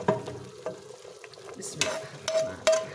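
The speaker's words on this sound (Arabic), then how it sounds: "لازم اسمع الطشه هاي" Fried onions in hot oil poured into pumpkin soup, giving a soft sizzle with light stirring and a few sharper clinks and splashes, fairly quiet and without talk.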